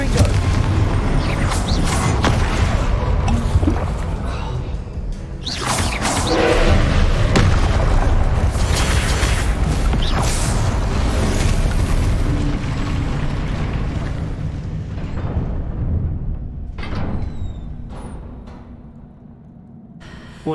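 Confringo blasting spells go off again and again in Hogwarts Legacy, dense booming explosions and thuds piling up loudly for most of the stretch before thinning out and fading toward the end.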